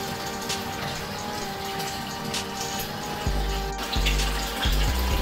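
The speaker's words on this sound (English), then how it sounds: "now we got the filter going." An aquarium filter pours a strong flow of water back into a fish tank, a continuous splashing and trickling close by, with gurgling, bubbly pulses growing louder toward the end.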